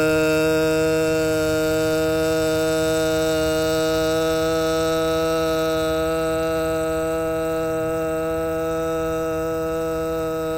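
A sustained, steady vocal tone with a guttural 'uh' vowel is held for a root chakra toning exercise, with rich layered harmonics and no breaks, loud and close.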